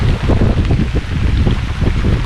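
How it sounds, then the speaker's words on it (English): Low, churning rumble of a boat stirring up water on a lake during a fishing match, mixed with gusty wind buffeting the microphone, continuous and fairly loud. "Boat churning up right in my swim."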